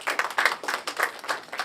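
Audience clapping at a launch event for a school sports challenge in Kawempe, a brief patter of hands with quick, uneven beats, moderately close and without talk.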